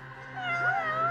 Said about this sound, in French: Oh le chat, il est où le chat? Il est là.